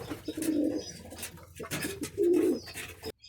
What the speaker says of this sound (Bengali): কবুতরগুলো দেখেন স্নান করার জন্য যে বলবাটটা দিয়েছি জলের বলবাটের উপরে কীভাবে বসে আছে